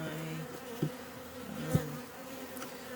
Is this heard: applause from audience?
no